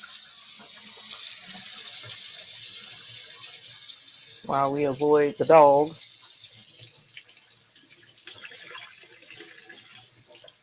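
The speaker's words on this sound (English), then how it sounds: "So let's get some hot water going in here in my sink." Hot water runs from a sink tap in a steady, soft hiss; it is briefly interrupted by a short spoken phrase, and the flow continues faintly afterward.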